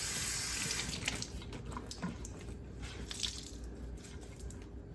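Tap water runs faintly and steadily into a sink as a clean tea towel is wetted, with a soft splashing hiss and no talking.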